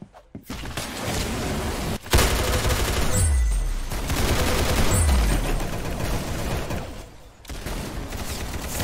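Rapid gunfire from the Roblox game Arsenal, dense bursts of shots with thumps and booms running almost continuously, loud and close, with brief gaps.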